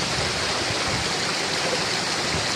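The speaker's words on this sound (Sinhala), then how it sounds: "රක්ෂිතෙන් එන පිරිසිදු වතුර පාරක් තමයි මෙතන ඉන්නේ." A clean water stream flows down from the Piduruthalagala reserve near Nuwara Eliya, giving a steady close rushing and splashing that stays even and loud without pause.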